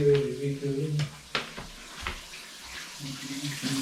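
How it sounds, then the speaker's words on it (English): Water streams steadily from a shower upstairs in a house, a hissing spray with intermittent splashes and a tonal hum, mostly steady and moderately near. "James is in the shower"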